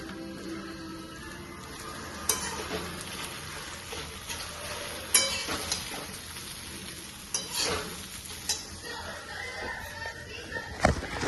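Poha flakes stirred in a hot pan, a steady soft sizzle under intermittent scraping and light clinks of the spoon against the pan, close and fairly quiet.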